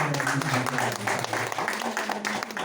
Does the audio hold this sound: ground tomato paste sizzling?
no